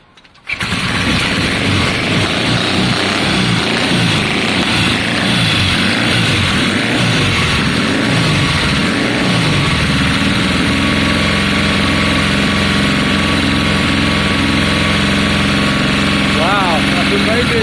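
A 1972 Triumph Bonneville T120 motorcycle with Mikuni carburettors kicks into life after a brief pause, then runs loud and close, revving before settling into a steady rough idle, with people talking over it.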